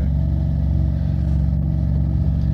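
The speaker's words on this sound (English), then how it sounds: "Comes a fire truck up this way." A fire truck drives by in Beirut in 1983, heard as a steady low engine rumble that holds at a constant loudness throughout, with no siren.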